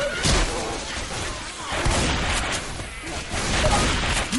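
Gunfire in the video game Left 4 Dead 2, with rapid loud bursts of shots layered over game noise and excited player voices talking throughout.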